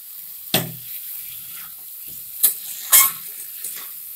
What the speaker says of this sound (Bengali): একটু ভালো করে মশলাটা কষিয়ে নিতে হবে যাতে আদার গন্ধটা না আসে।